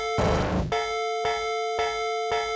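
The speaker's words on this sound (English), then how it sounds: "the round over bell sounds like this." A round-over bell from the fighting game Fighting Masters opens with a short noisy burst, then strikes several evenly spaced metallic dings. Each ding rings out clearly over a sustained tone.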